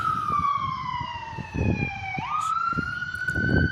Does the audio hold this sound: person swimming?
no